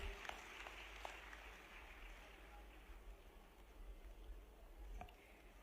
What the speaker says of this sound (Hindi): एक बार जोरदार तालियों से उनका स्वागत किया जाए।